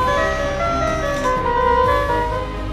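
A foldable musical playmate toy, battery powered and just switched on, plays a steady electronic melody with sustained tones, loud and close for nearly three seconds, with no talking.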